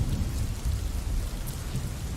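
A thunderstorm sound effect plays with dense, steady rain and a low rumble of thunder beneath, continuous and fairly loud throughout.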